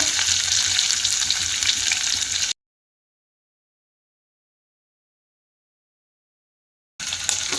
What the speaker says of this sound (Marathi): लसूण जिरं मोहरी चांगले भाजू द्यायचं आहे बघा आपल्याला।